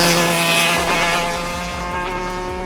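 A two-stroke racing kart engine screams at high revs nearby, a loud, harmonically rich whine that holds steady then eases slightly as it passes, with wind buffeting underneath.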